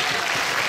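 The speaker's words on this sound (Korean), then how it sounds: "다 같이 박수!" Audience at a school STEM festival event applauding, a dense, steady wash of many hands clapping together for a brief moment.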